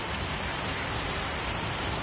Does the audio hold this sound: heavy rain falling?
yes